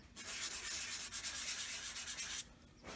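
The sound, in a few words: lightly sanding to thin the glue layer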